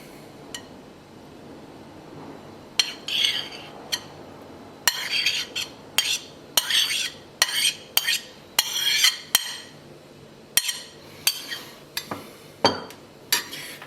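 Herring salad spooned onto a plate over herring, a metal spoon scraping and clinking against the dish in a series of sharp, close taps and scrapes, heard alone with no talk.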